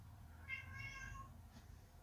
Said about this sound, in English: And now I hear my cat.